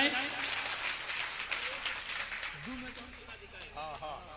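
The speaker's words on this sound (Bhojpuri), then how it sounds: "एक बार पुनः जोर से ताली बजाएं।" An audience claps at an educational event, a dense, steady rush of applause lasting several seconds while a voice speaks over it toward the end.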